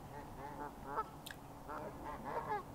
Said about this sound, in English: You definitely get the barrage of geese at times flying in on you, squawking at you